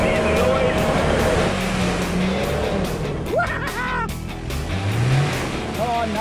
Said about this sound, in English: take it very gently until my nose touches that mud puddle and then give it some gas